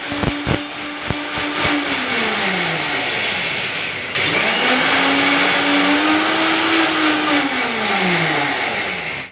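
A kitchen mixer grinder jar grinds roasted moong dal coarsely, its loud motor whine rising and falling, cutting out briefly partway through, then spinning up again.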